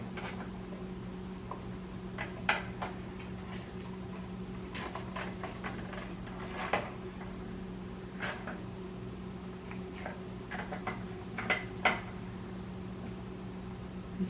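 Magneto coil bolts on a Toro mower are snugged down by hand, with sparse metallic clicks and ratchet-like ticks scattered across a steady low hum, close by.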